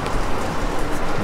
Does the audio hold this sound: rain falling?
yes